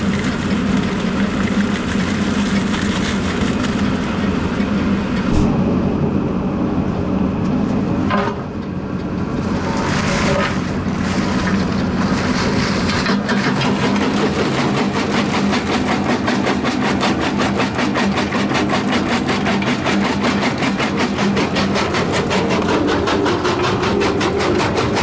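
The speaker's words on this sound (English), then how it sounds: "Down to about ½ inch minus in the jaw crusher." A jaw crusher breaking gold-bearing quartz contact ore down to about half-inch pieces, producing a loud, continuous heavy mechanical roar and rumble with grinding texture throughout, no talk.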